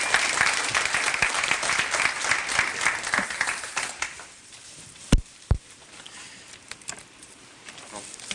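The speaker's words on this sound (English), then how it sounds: "Everybody give him a round of applause" An audience at a monthly ITS Georgia maintenance meeting breaks into a round of applause that starts loud and full, then thins out over a few seconds into scattered claps and room noise.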